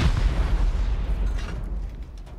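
HV rockets explode against turrets in the survival game Rust, a heavy, close boom with deep rumbling that rolls on and gradually decays over about two seconds.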